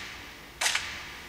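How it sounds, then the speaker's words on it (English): A single reverberant gunshot sound effect from a drill beat, a sharp loud crack at mid-clip with a short double tail, standing alone against a quiet hiss. "reverberated gunshot sound effect that you hear in a lot of drill beats"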